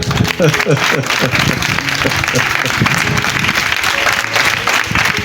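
Sustained applause from a church congregation fills the scene, with a dense, steady clatter of hands and voices mixed in throughout.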